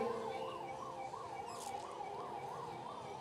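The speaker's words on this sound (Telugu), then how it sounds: "దయించి అందరూ అంబులెన్స్కి దారివ్వండి" A wailing ambulance siren rises and falls in a steady, repeating cycle, loud and continuous against a background of traffic rumble, during a Jagannath Rath Yatra festival procession in Rajahmundry.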